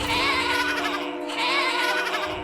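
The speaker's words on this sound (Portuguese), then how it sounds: "A gente sangrou uma cabra e deixou ela presa sozinha no meio do curral, berrando." A goat tied alone in the middle of a corral bleats loudly and continuously in two long, wavering calls, close and unbroken, with no other voices.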